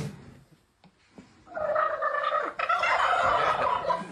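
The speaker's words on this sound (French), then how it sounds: "Tout est possible aux États-Unis, même parler avec des dindons. Suffit d'une bouteille et un peu d'entraînement." Wild turkeys in the United States gobbling in reply to a bottle call: a few faint knocks at first, then loud, rattling gobbles that overlap and carry on for the last few seconds.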